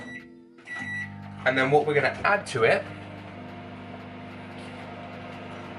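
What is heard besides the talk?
microwave oven running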